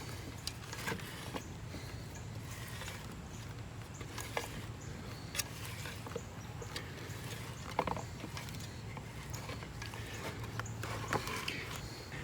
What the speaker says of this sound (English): Now that I've got my assembly out, I'm just going to wind the spring inside the casing.